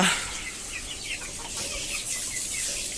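Many young desi (native) chickens cluck and chatter continuously in a dense, noisy flock, heard at close range over a constant hiss.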